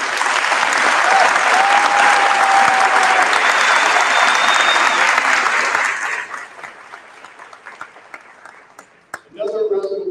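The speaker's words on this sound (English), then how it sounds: "How about a big round of applause?" A graduation commencement crowd gives sustained loud applause for about six seconds, then the clapping thins and fades. A brief voice and a tonal sound follow near the end.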